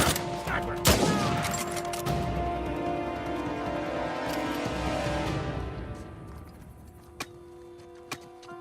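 Sniper fire in Uncharted 4 opens with a sharp, loud crack and rolling echo, then lingering rumble and two faint distant shots, with a voice briefly heard early on.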